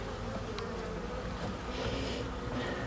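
Honeybees drone steadily around hives at a Polish apiary, a soft continuous buzz with faint passing rises, no voices.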